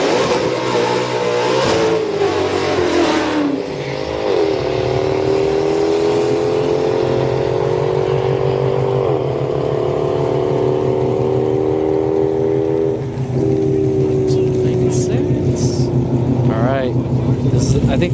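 A Kia Stinger and a VMP supercharged Mustang 5.0 revving and accelerating at a street night drag strip, loud sustained engine roar with rising pitch sweeps and gear changes, close and continuous, with voices talking underneath.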